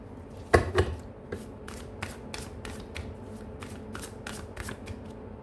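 Playing cards shuffled close by during a tarot reading, with two sharp riffles at the start followed by rapid, evenly spaced slaps and flicks of the cards.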